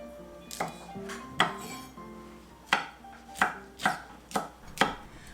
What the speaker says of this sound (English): I begin by cutting my veggies.